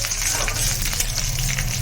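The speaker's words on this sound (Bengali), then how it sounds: "চার পাঁচটা রসুন কুচিয়ে দিয়েছি রসুনটা একটু নেড়ে মেরে ভাজা ভাজা হয়ে আসছে" Four or five cloves of chopped garlic frying in a pan for a Bengali red amaranth stir-fry with peanuts, giving a close, dense sizzle and crackle with stirring scrapes, continuous and bright.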